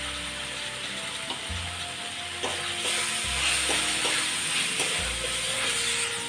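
Chopped tomato goes into masala frying for okra do pyaza, with a steady sizzle and repeated scraping, clicking stirs against the pan.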